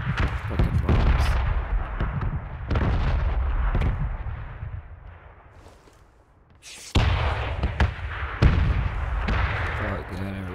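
Bombs exploding in a video game, a series of loud, close blasts and artillery-like booms with sharp cracks, one heavy burst after a brief lull, while someone talks over the gunfire.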